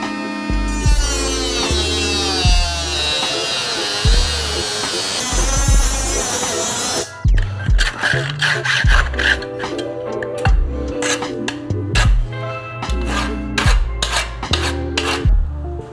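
A part is cut off a Triumph Bonneville motorcycle being converted into a flat track bike, with a loud, steady high-pitched grinding rasp that gives way to choppy bursts of cutting with short pauses.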